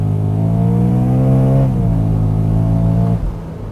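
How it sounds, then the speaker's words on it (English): Supercharged V8 of a 2013 BMW M3 under launch control, holding a loud, steady high-rev drone that wavers as the wheels struggle for grip, then drops away near the end. "Okay, launch control, and yeah, it's having a hard time locking up."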